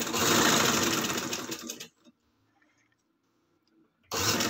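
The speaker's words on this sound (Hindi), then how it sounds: "अब हम उस साइड से सिलाई लगाएंगे" Sewing machine stitching fabric, a rapid continuous mechanical whir for about two seconds, stopping to near silence, then starting again, close and loud.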